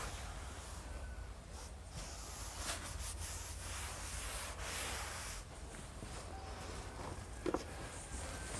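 Writing being rubbed off a board in a maths class: a continuous soft, broadband rubbing and wiping, faint and fairly even, with a brief knock near the end and no talk.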